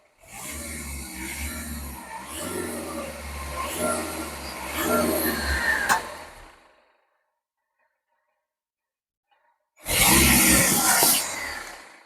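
A Maruti Zen diesel car engine revs loudly for several seconds, drops to near silence, then roars again in a second burst of revving.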